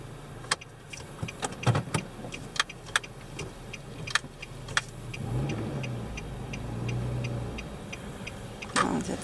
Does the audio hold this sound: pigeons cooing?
no